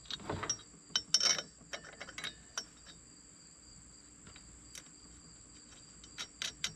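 Metallic ratcheting clicks and clanks come close up as the safety bolt goes back into a Roadmaster Stowmaster 5000 towbar, in irregular bursts over a faint steady high whine, with no talking.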